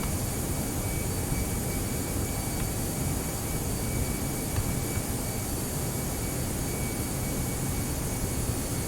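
Toliss A319 jet airliner landing in X-Plane 11, a steady broadband jet engine roar with a high whine layered on top, continuous and loud throughout, with no talk.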